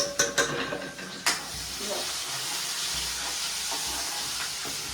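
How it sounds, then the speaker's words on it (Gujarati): Cumin, garlic and onion hit hot oil as a Gujarati vaghar tempering for a dry vegetable dish, producing a continuous bright hiss after a few quick clinks at the start. "આપણા વઘાર પરથી જીરું મેં નાખી દઈએ છે જીરું ક્યાં લસણ ડુંગળી નાખી દઉં હું આમાં"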